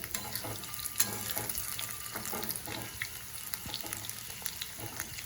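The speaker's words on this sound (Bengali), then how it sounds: "সয়াবিনটা ভেজে নিচ্ছি লাল লাল করে" Soybean chunks fry in oil for soyabean chilli, a quieter crackling sizzle with frequent small pops and spatula clicks close by.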